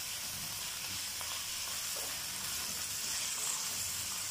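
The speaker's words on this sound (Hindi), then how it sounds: "चिकन को फ्राई करना है।" Chicken fries in a modest amount of oil for chicken fried rice, a faint, even hiss of sizzling that stays steady throughout with no voices.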